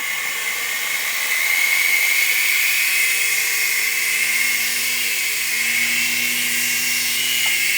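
A micro remote-control helicopter's high, thin whine hums steadily and close, its pitch wavering slightly as the tiny rotor speeds up and slows.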